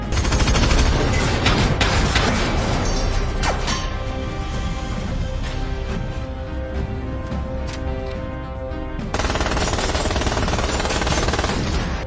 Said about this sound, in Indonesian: menghujani mereka dengan tembakan